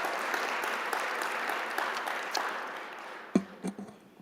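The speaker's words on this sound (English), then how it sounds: "Let's give her a round of applause." Audience applause at a veterans' salute event, a steady wash of clapping that fades out near the end, leaving a few sharp isolated claps.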